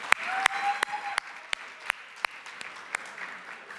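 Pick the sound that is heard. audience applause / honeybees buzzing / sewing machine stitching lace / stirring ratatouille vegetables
audience applause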